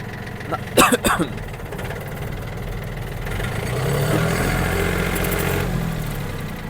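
A Yanmar US-31D mini tractor engine runs steadily under load in third gear on asphalt, a continuous mid-pitched hum that swells slightly as it gathers speed, with a few brief clunks early on and faint background voices.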